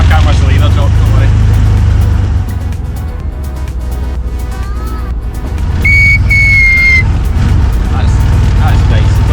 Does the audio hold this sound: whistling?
yes